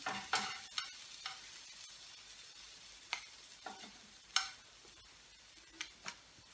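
Bacon frying in a pan while a zero-carb bacon and egg breakfast is made, giving a faint sizzle with scattered sharp clicks and taps of utensils stirring, soft and close.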